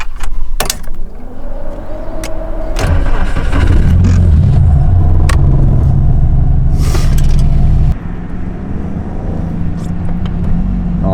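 A Chevrolet Camaro LS-Z engine revs hard as the car accelerates on the road, its loud, sustained roar building over several seconds, then easing slightly, with a few sharp clicks and thumps near the start.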